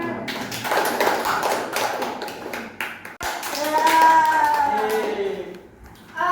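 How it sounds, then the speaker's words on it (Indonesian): Brief hand clapping from a small group in a classroom teaching session, a few taps mixed with voices talking, a sharp knock midway and murmured speech after. "Beri tepuk tangan ya"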